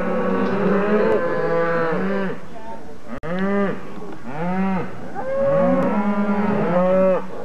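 Cattle, including a heifer, moo repeatedly on a ranch, several long, drawn-out lowing calls overlapping one another nearby, with brief pauses between them.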